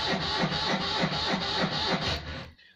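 A Citroën 2CV with a flat battery failing to start: the starter churns slowly and rhythmically for a couple of seconds without the engine catching, close and fairly loud, with no talking.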